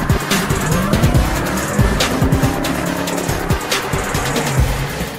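A 2019 Jeep Grand Cherokee Trackhawk makes a launch-control start, its loud, close engine roar mixed with squealing tires and rising and falling engine tones.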